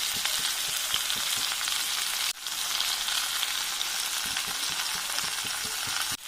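Meat and potatoes sizzle loudly in a pan of fried-down spices, a dense, steady frying hiss with occasional soft pops, briefly dipping near the middle before resuming.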